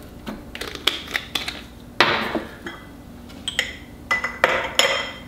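Whole cardamom pods are shaken into a glass jar holding Granny Smith apple, giving a quick run of light clinks and rattling taps, some sharper than others, close by with no voices.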